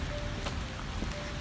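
Rain falling outdoors in Canada as winter approaches, a steady close patter of drops on surfaces with a few slightly sharper splashes, alone with no talk.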